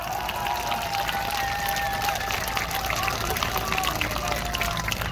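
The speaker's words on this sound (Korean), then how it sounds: "큰 격려와 성원의 박수 부탁드립니다" Crowd applause at an outdoor election campaign launch rally for a Jeju governor candidate, steady and continuous dense clapping filling the whole stretch with a murmuring crowd underneath.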